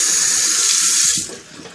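Tap water running over hands to rinse off shaving oil, a close, bright splashing stream that cuts off after about a second and a quarter, leaving a softer trickle.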